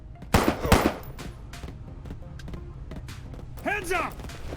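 Gunfire in the police video game Police Stories: a quick cluster of loud, sharp bursts early on, then scattered fainter pops, with a brief vocal sound near the end.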